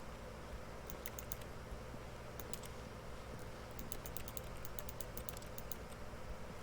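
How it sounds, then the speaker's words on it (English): Rapid clicking from a video game session, with quiet bursts of light, crisp clicks in irregular clusters over a low steady background hum, close and faint. "Just randomly clicking."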